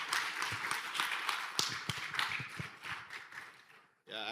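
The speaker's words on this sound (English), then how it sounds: "Please a round of applause for him." Conference audience applauding after a keynote talk, a dense wash of clapping that gradually dies away before a voice starts speaking at the very end.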